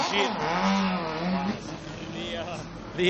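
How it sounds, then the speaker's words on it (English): Four-rotor rotary race car passing at a Formula Drift event at Wall, New Jersey, a loud rising and falling engine drone, with someone talking over it. "we have to pause for the extremely loud four-rotor going by us"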